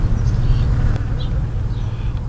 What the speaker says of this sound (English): Look at the little bees.